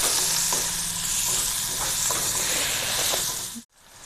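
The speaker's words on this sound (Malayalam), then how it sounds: "ഇനി നമുക്ക് നമ്മുടെ തക്കാളിയും കൂടെ ഒന്ന് ഇട്ട് കൊടുത്ത് ഒന്നും കൂടെ ഒന്ന് വഴറ്റിയെടുക്കാം" Onion, green chilli and tomato sizzle steadily in a pan over medium flame, a continuous loud hiss with faint stirring scrapes, cutting off abruptly near the end.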